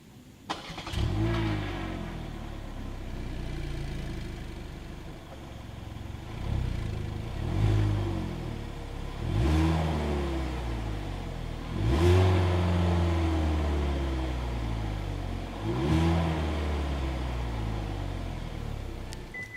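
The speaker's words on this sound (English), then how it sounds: "As always, here is that exhaust clip." 2022 Hyundai Elantra exhaust at close range: a steady idle broken by a series of revs, about five rising and falling pulls spread evenly over twenty seconds, with no talking.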